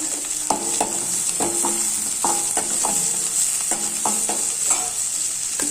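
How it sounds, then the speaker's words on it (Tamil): Curry leaves dropped into onions sautéing in a pan, a steady hiss of frying oil with repeated light scraping and stirring taps from a spoon against the pan. "வெங்காயம் லேசாக வதங்கிடுச்சு இப்போ கருவேப்பிலையை போட்டுக்கலாம்"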